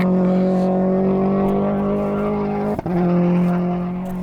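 A loud Subaru rally car engine holds a steady idle-like drone, then briefly dips with a sharp crack near the end before droning on, like a quick sequential-gearbox shift.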